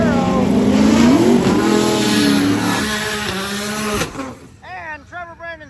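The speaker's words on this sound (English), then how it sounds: "Okay, now we have the Camaro." A Chevrolet Camaro at a drag-and-drive event revs hard, its engine note climbing through gears in a loud rising whine that fades off, followed by faint, wavering tones as talk continues.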